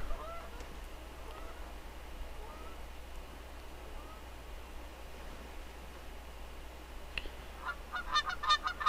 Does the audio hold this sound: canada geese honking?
yes